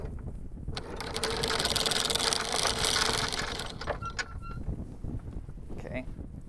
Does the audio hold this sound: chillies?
no